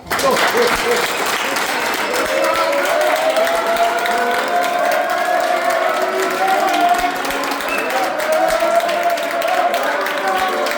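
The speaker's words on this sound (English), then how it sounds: "So I want you to give this gentleman here a big round of applause." A crowd gives a gentleman a big round of applause at a blues championship, sustained and loud, with a voice talking over the clapping throughout.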